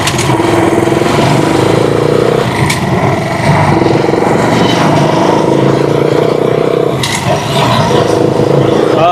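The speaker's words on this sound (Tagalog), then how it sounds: "Painitin muna natin yung ating trike." A Rusi Chariot 175 motorcycle trike engine warms up close by, a rough putting idle with repeated revs swelling and dropping, a few scrapes and clunks, and faint voices in the background.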